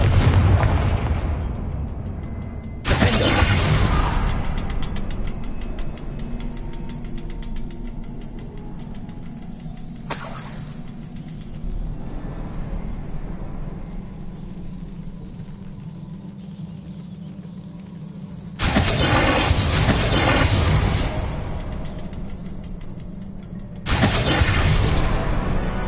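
Confringo fire spell explosions in Hogwarts Legacy burst out as several loud, sharp booms at irregular intervals, each decaying into a rumbling tail over a low background drone.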